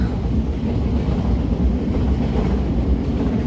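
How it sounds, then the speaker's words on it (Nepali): A low, steady rumble of a train arriving at a station in Japan rolls on continuously, heavy and even, with no voices. "अहिले ट्रेनहरू आउँदैछ यता"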